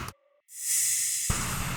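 A crash cymbal swells up in a tearout dubstep track as a rising, hissing wash of noise, loud and sustained after a brief tonal blip, before a denser burst takes over.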